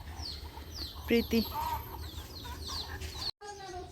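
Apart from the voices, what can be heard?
chickens clucking while being fed rice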